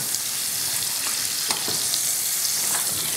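A knob of butter sizzles and crackles steadily in a hot frying pan, close and even, with a few faint scrapes and no voices.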